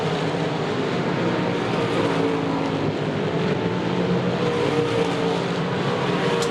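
Late model stock cars in a 35-lap feature at Virginia Motor Speedway, a dense continuous engine roar from a pack circling the track, heard from a distance and steady in level throughout.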